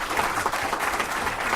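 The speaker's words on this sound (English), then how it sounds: "give a round of applause for Scott" At a Murray City council meeting, a roomful of people applaud a firefighter named Scott: a short, dense burst of steady crowd clapping with no talk over it.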